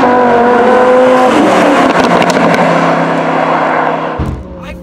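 Lamborghini Huracan driving through corners, a loud close engine note shifting pitch as it accelerates and eases off, with a sudden drop near the end and faint tire noise.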